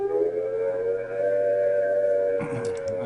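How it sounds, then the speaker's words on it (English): A UK civil defence nuclear attack warning siren wails in a steady, loud sustained tone, with a brief noisy disturbance near the end. "If attack is imminent, you will hear the attack sound like this."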